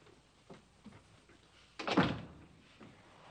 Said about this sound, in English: May I close this door?